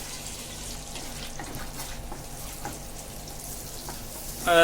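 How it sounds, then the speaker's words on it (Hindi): Onions frying in two spoons of butter in a pan, giving a steady soft sizzle with faint scraping as they are stirred, close by and continuous, ending in a brief louder clatter. "इस प्याज को थोड़ा नरम होने तक पकाएंगे, ऐसे ही इसको ऐसे ही चलाते हुए पकाएंगे"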